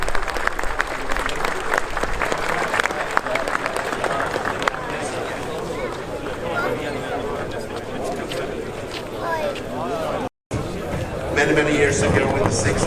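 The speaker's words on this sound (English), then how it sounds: "A big applause for Sverker Dahl." Audience applause at a Saab car museum festival prize-giving ceremony: dense, sustained clapping and crowd noise filling the hall, with a brief dropout near the end before the applause resumes.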